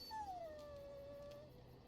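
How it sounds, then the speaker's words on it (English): Dog in the Dragon Age: Origins video game gives one long, clear howl that bends downward and then holds steady, fading out toward the end, with no talk over it. "Sometimes I forget that he's a war dog."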